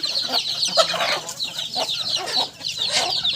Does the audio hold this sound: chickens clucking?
yes